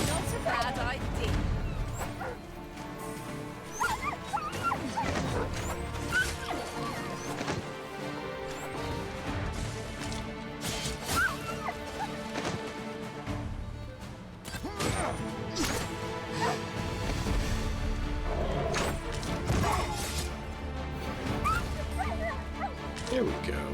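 Dogs barking, yelping and snarling while fighting in the Dragon's Dogma video game, with hits and crashes of combat throughout and voices talking over the fight.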